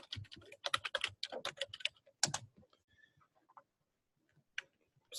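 Close bursts of rapid keystrokes on a computer keyboard, with a busy run of clicks at first, then sparser, scattered taps and a few isolated clicks after a pause.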